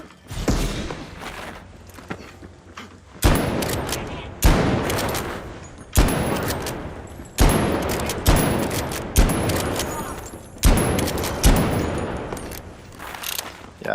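Gunfire from a weapon in the video game The Finals comes in about seven sharp, loud bursts spaced roughly every one and a half seconds, each decaying quickly, with mechanical clicks between.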